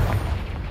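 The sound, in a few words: Confringo blasting spell explosion, Hogwarts Legacy video game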